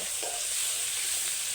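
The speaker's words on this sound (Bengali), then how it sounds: "এইবার দিয়ে দিলাম পেঁয়াজ আর টমেটো। এইবার এগুলোকেও একটু ভাজা ভাজা করে নেব।" Onion and tomato fry in a wok with a soft, continuous hiss and sizzle, faint and steady, stirred briefly with no talking.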